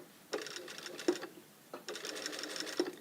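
Sewing machine stitching a seam on a blazer lapel, with two short quiet runs of stitching separated by a pause and small clicks of the machine.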